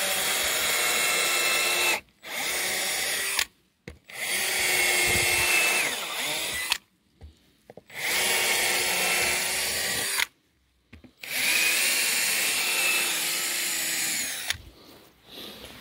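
Power drill boring holes through a wooden beehive box lid, in loud sustained bursts of two to three seconds each, five runs separated by short pauses, close by with no talk.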